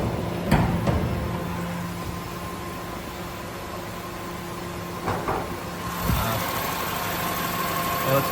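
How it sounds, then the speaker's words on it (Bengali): A Toyota EE111 XE saloon engine idles smoothly with a steady low hum, broken by a few sharp clunks and knocks nearby, and the idle grows slightly louder toward the end. "একেবারে স্মুথ সাউন্ড ইঞ্জিনের। স্টার্ট দিয়ে দেবে,"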